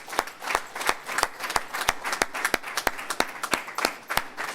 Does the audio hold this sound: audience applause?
yes